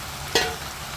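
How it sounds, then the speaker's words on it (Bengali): Fried rohu fish pieces drop into hot oil with a brief, sharp sizzle burst that fades quickly against a soft background hiss. "এই যে মাছ ভাজাগুলো এবার এর মধ্যে ছেড়ে দেবো আস্তে আস্তে।"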